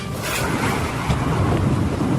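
In an audio drama, a storm breaks over a boat at sea with dense, steady roar of wind and rain and low rumbling, a continuous loud wash with no voices.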